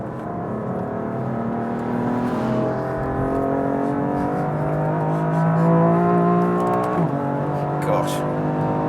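A BMW M car accelerates hard on a race track, its engine note climbing in tone through quick gear shifts, loud and close from inside the cabin, with a person talking over it.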